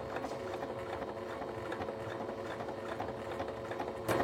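A sewing machine stitches along a zipper with a fast, steady mechanical whir and rattle, running continuously at moderate volume with no talk.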